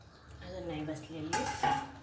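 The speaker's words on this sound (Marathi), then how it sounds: "थोडंसं परतून घेऊ आपण हिला परत पुन्हा." Fresh fenugreek greens are stirred in a cooking pan with a metal spoon, giving a few clinks and a louder scrape against the pan near the end, with faint voice-like sounds in the background.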